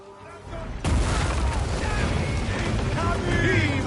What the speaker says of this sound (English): Our catapults will fire upon your order.